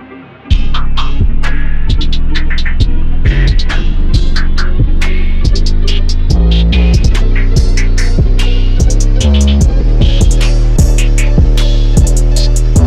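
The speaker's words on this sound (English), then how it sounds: "The beat basically winds up as it progresses, and then it eventually drops in." A rage beat made in Ableton builds up, with heavy distorted bass pulses, a driving rhythmic pattern and bright percussive hits growing denser, loud and continuous throughout.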